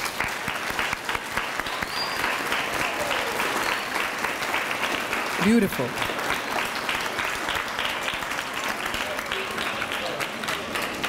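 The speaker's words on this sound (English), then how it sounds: "I would like to give them a round of applause." A school audience at a middle school Veterans Day program applauds music and band teachers, sustained clapping from a large crowd filling the room, with brief voices and a short call of approval heard over it.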